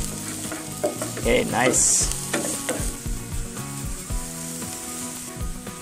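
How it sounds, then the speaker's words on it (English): Aromatics sizzling as they hit a pan of hot oil over a medium flame, a loud frying crackle with stirring clatter, while someone speaks briefly over it. "the aromatics are ready to hit the pan"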